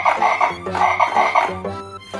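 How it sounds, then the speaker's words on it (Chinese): A children's toy plays an electronic frog croak, a close, repeated rhythmic croaking in several pulsing bursts with a steady tonal hum beneath, and no talking over it. "下面这个应该是小青蛙"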